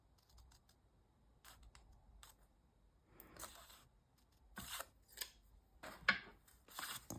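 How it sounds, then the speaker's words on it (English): Scissors snipping through fabric near a fold line while sewing pockets, a series of faint, sharp close cuts in short irregular bursts over a quiet background. "with my scissors, I'm going to cut down, I don't know, 1/4 inch from the fold line where those marks are."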